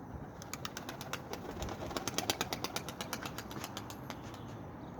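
Faint, repeated fluttering of wings from a flock of released Dumanlı tumbler pigeons in flight against a steady outdoor background, with soft bird sounds scattered throughout.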